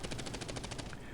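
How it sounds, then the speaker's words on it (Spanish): Rapid automatic gunfire echoes down a police station hallway in a sound effect, about a second of dense, evenly spaced shots fired in one continuous, loud burst. "una serie de disparos comenzaron a sonar en el vestíbulo"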